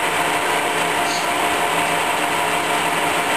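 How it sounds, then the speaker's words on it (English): Colchester Mascot lathe feed gearbox running steadily, a dense continuous mechanical whir and gear clatter with a faint underlying beat, close and fairly loud throughout. "So you can hear that beat, the gearbox is working fine"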